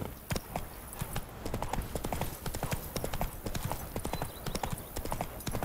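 Roach, the horse in Witcher 3, trots along with a close, rhythmic clip-clop of hooves, steady and fairly loud.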